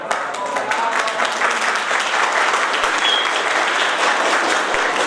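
Children applaud at a school celebration of the Saint Sava school feast in Lapovo, producing dense, sustained clapping from a large group that stays steady and loud throughout.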